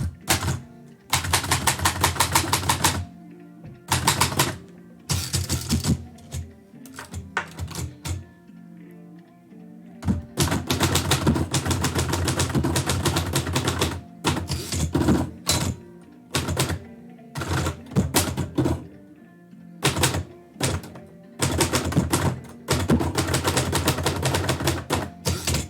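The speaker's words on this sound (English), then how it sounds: "there's something very relaxing about just being at the typewriter typing these out" A typewriter clatters as haiku poems are typed out, with rapid bursts of sharp key strikes separated by brief pauses and the occasional heavier thunk of the carriage, close and continuous.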